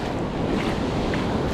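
Ocean waves wash steadily along the Gulf coast in a dense, continuous roar, with heavy wind buffeting the microphone throughout and no voices.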